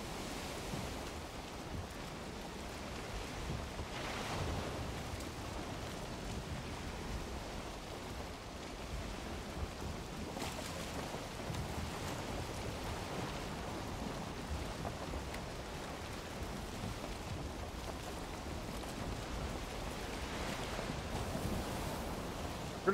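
Broad, steady rush of open-ocean waves and wind while sailing a boat at full sail in the video game Valheim, continuous and fairly loud with gentle swells in intensity, no talking.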